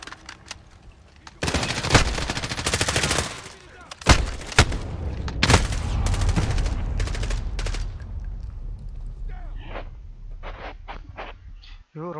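Rapid bursts of automatic gunfire in a video game, loud volleys firing in clusters with sharp single shots between, fading to scattered pops near the end while a voice talks underneath.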